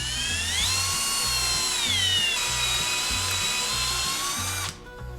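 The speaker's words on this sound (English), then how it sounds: "And now we need to drill and tap into this case." A power drill whines steadily while boring and tapping into a vehicle transfer case, its pitch dipping and recovering under load before the motor cuts off near the end, leaving a low residual hum.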